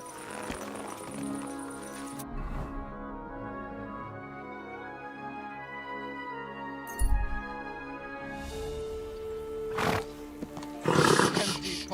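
Horse sounds in the Kingdom Come: Deliverance II video game, a mix of snorts and whinny-like calls over steady game ambience and music, with a few louder bursts near the end.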